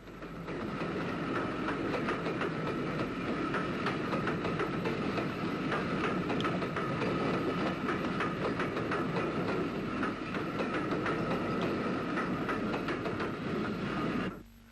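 A Great Northern VS Class 4-4-0 steam locomotive works along an Ulster main line in the early 1960s, a steady, loud rolling rumble with rhythmic wheel clatter and rail noise sustained throughout, with no speech.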